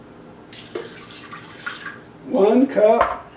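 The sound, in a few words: pouring water into Oster Expressbake breadmaker pan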